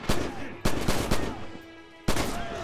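Rifle gunfire in the World War II shooter Red Orchestra 2: several sharp, loud shots in an irregular burst, a brief lull, then one more crack, with faint battle noise between them.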